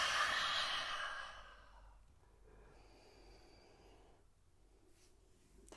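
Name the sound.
exhaling through open mouth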